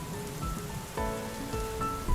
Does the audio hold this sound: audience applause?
no